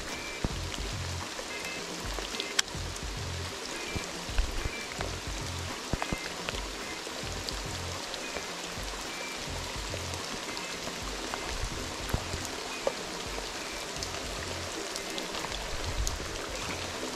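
Rain falls steadily on water during a fishing outing, making a constant soft, even hiss with faint scattered drips and no voices.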